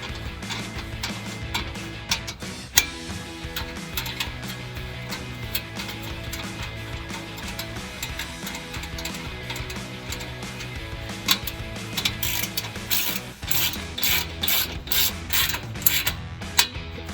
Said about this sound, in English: And you go ahead and tighten these clamps down.